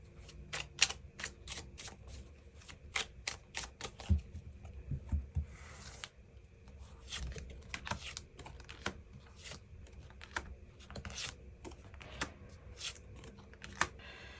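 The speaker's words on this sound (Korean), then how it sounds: "그 부분 추가 카드 뽑아보도록 하겠습니다" Tarot cards being drawn and handled during a reading, with quick, crisp tapping and flicking clicks scattered all the way through, close and fairly quiet, and soft speech faintly underneath.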